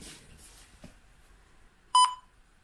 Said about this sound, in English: It makes the same beeping noise